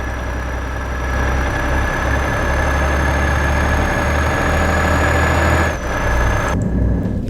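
A Volvo truck engine in a truck driving video game drones steadily and loudly with a low rumble and a high whine, dipping briefly near the end.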